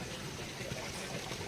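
Spring water flows constantly at Chilakala Gutta near Medaram, a soft, continuous burble of running water heard up close and alone.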